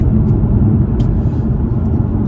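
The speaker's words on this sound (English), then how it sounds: "there's a car coming" A car rumbles past on the road outside a moving car, a steady low drone with a brief swell of passing noise, heard from inside the vehicle.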